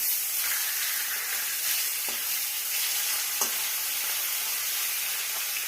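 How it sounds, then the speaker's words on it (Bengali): Fish fry in hot oil in a pan, a steady dense sizzle that holds even throughout, with a couple of faint clicks as the pieces are turned over, close up and with no talk. "এইভাবে উল্টে পাল্টে দুটো পাশে ভালো করে ভেজে নেব।"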